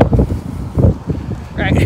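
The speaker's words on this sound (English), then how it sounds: "It's a little windy. You might be able to hear it" Wind gusting across the mic in downtown Canton, Texas, a flea market town: a loud, low buffeting roar that rises and falls, with a voice murmuring faintly underneath.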